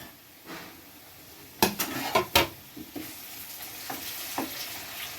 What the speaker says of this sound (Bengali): এবারও হালকাভাবে ভেজে নেব খুব বেশিক্ষণ ধরে ভাজবো না